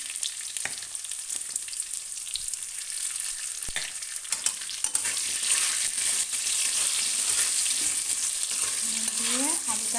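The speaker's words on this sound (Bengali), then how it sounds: "আলুটাকে হালকা একটু ভেজে নেব" Cut potatoes fry lightly in hot oil as a spoon stirs them, giving a steady close sizzle that grows fuller partway through, with occasional scrapes and knocks against the pan and no speech.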